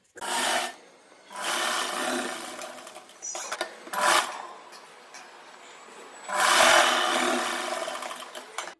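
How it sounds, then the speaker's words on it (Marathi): A sewing machine runs in bursts stitching a blouse shoulder seam, its rapid whirring chatter starting and stopping several times at close range, with short pauses and small handling noises between runs. "आता दुसरी शिलाई पक्की मारून घ्यायची"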